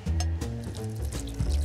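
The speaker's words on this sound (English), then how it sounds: "just pour it up." A Manila Bay cocktail poured out of a shaker, a soft close trickle and splash of liquid lasting under two seconds with no talk over it.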